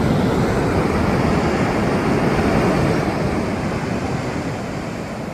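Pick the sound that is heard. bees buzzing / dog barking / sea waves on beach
sea waves on beach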